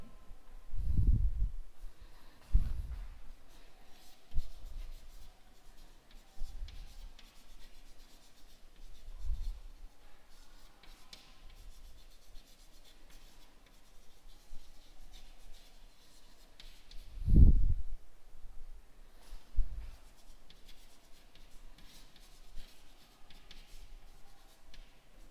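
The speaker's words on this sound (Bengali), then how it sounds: "চলো লিখি আমরা" Pen scratching across paper in a quiet room during a live Bengali lesson, with soft continuous rubbing strokes and a few louder thumps or taps scattered through, no talking.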